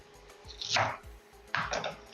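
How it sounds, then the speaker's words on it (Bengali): Knife chopping Malabar spinach (pui shak) greens on a board in a home kitchen, two short bursts of quick, crisp cuts with soft thuds, separated by a brief pause. "মশলাটা যতক্ষণে কষানো হচ্ছে সেই ফাঁকে আমি শাকটা কেটে নিচ্ছি"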